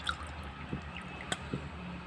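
Water from a drinking glass poured over sugar for a New Year cake, heard as a few faint, scattered drips and small liquid splats in a quiet kitchen, with no talking.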